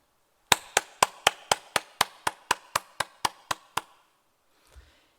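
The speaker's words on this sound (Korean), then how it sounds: "3일간의 집회에 함께해 주신 하나님께 모든 영광을 박수로 올리겠습니다." Fourteen sharp, evenly spaced claps ring out at a steady beat for about three seconds, like a congregation clapping in unison at a church gathering, then fade to near silence with one faint low thump.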